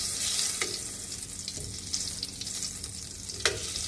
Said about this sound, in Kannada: ಈಗ ಎಣ್ಣೆ ಬಾಣಲೆಯನ್ನು ಇಟ್ಟಿದ್ದೀನಿ, ಸ್ವಲ್ಪ ಎಣ್ಣೆ ಹಾಕಿದ್ದೀನಿ, ಜೊತೆಗೆ ಒಂದು ಸ್ವಲ್ಪ ಬೆಣ್ಣೆಯನ್ನು ಹಾಕ್ತಾಯಿದ್ದೀನಿ